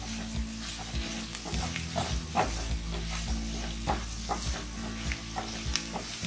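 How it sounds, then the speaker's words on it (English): Chopped okra (bhindi) and onion roast in an uncovered pan over a medium flame, a steady close sizzle broken by repeated scraping stirs of a spatula, with no voices. "we will be adding the chopped bhindi to it and roast it. Start roasting it on a medium flame."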